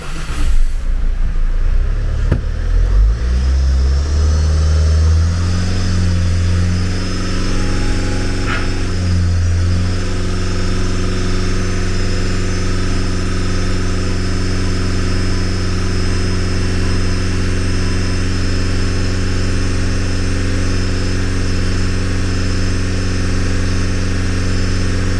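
A diesel engine is held at raised RPM for a DPF regeneration: a loud, steady, droning hum with firm harmonics. Revs climb in the first few seconds, dip briefly mid-way, then hold even to the end, with no talk.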